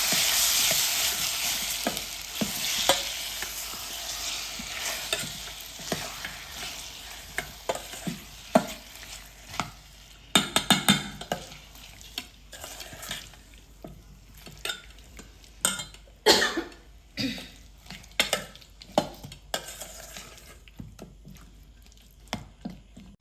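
Mango chips for a sweet, sour and spicy pickle fry in hot oil over a low gas flame, with a steady close sizzle at first that thins out and gives way to a string of spoon scrapes and clinks against the pan.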